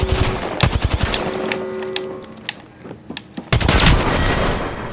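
Rapid automatic gunfire in the Apex Legends video game, bursts of sharp shots early, a pause, then a dense loud volley near the end.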